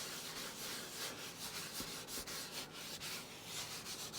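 P&S scrubber brush works Phoenix Fenrir tire and interior dressing into a surface, producing close, continuous bristly rubbing strokes in a steady back-and-forth rhythm with no voices.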